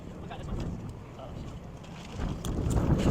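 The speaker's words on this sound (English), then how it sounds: "First outdoor event of the year is kind of windy." Wind buffets the microphone in low, uneven gusts at an outdoor event, growing stronger toward the end, with faint voices mixed in.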